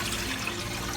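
Three cups of cold water pour into a cooking pot for brown gravy, a steady close splashing stream running evenly for about a second.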